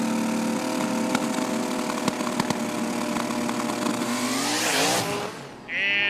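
Hot rod and turbine-engine drag cars in a sim racing game scream at full throttle, engines revving hard with sharp shift crackles, rising to a loud peak before cutting off abruptly near the end.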